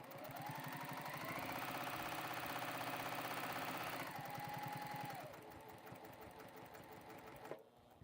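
A Juki sewing machine stitches a quilt closed, a loud rapid mechanical whirr and clatter running continuously, then slowing and easing off near the end with a brief click.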